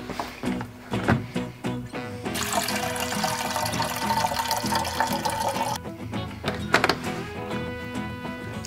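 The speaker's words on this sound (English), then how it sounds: "I'm going to pour the milk, get eating, and I'll answer those questions." Milk pours into a breakfast bowl in a steady, close liquid stream lasting several seconds, with a few knocks and clinks of the carton and bowl before and after.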